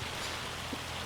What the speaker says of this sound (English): That might be rain.